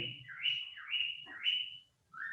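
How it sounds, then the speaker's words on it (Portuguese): A small bird sings nearby: clear whistled notes rise and fall in a repeated pattern, about three phrases in quick succession, then a short pause and another note. "O passarinho ali tá cantando hoje."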